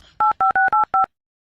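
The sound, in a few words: dialing a phone number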